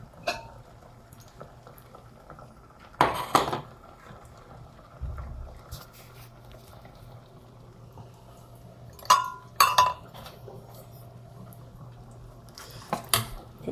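Cabbage soup being dished out in a quiet kitchen, with a few sharp clinks of pot, ladle and bowls in brief bursts against a low hum and long quiet stretches.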